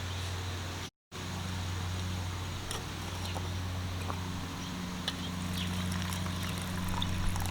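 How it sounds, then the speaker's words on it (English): Steady water pouring into a container of soil with a low continuous rush and faint trickling, close by, after a brief dropout near the start. "I'm going to pour this now into the container of soil"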